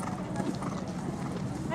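A horse cantering and jumping on a novice-level eventing course at the Rolex Kentucky three-day event: faint rhythmic hoofbeats on turf with crowd ambience, while someone talks over them.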